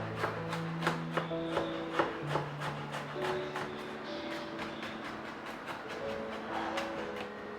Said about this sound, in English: Chopping some garlic